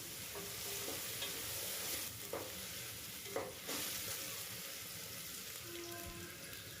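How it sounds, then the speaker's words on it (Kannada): Mint leaves and chopped coriander frying for a vegetable biryani: a constant soft sizzle with a few stirring clicks and scrapes now and then, close but fairly quiet, with no speech. "ಹಾಗೆಯೇ ಕೊತ್ತಂಬರಿ ಸೊಪ್ಪು ಹೆಚ್ಚಿರೋದು ಎಲ್ಲ ಚೆನ್ನಾಗಿ ಫ್ರೈ ಮಾಡ್ಕೋಬೇಕು"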